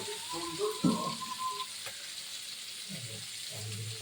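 Prawns dropped into hot oil already holding chopped onion for a prawn curry with vegetable stalks and pointed gourd, giving a close, steady hissing sizzle with a few soft clunks as they land and settle.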